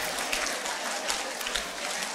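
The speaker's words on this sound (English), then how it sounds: "Clap your hands, clap your hands." A church congregation claps hands together in dense, steady applause throughout, a continuous wash of many hands at moderate volume with no clear voices over it.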